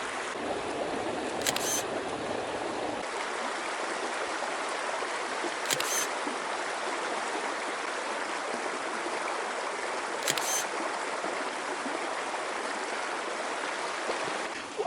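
A camera shutter clicks three times, each a single sharp snap spaced several seconds apart, over the steady rush of a nearby stream.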